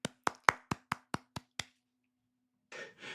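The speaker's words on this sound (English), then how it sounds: "Clap for her." A single person claps eight sharp, evenly spaced times, close and crisp, followed by a short silence and then a brief burst of talking.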